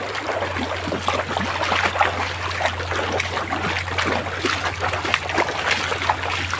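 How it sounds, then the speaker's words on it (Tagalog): Strong floodwater rushing and splashing past at a fishing spot, a steady dense roar of churning water with a low hum underneath, loud and continuous throughout with no voices. "Oh, malakas ng tubig guys."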